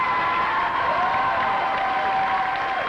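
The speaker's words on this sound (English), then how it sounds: "And a standing ovation from the crowd." At a 1993 MIT 6.270 autonomous LEGO robot design competition, a crowd applauds and cheers in a steady, dense roar, with a tonal whistle-like note running over it.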